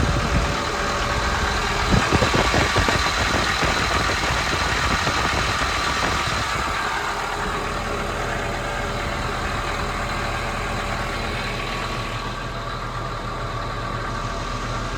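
A new Hyundai engine idles steadily in a piece of heavy equipment, a continuous mid-pitched diesel rumble with some knocking texture, louder and busier in the first seconds before settling to an even drone.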